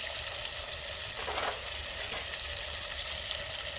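Spice powders going into a sizzling pan of oil with crushed green chili, ginger and coriander for vaghareli khichdi, a steady close frying hiss with a brief swell of sizzle midway.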